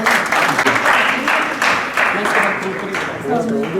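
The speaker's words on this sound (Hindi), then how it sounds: "आप सबसे मेरा अनुरोध है जोरदार तालियों के साथ" Loud applause from a seminar audience at an international law college seminar, steady dense clapping filling the room with some voices mixed in.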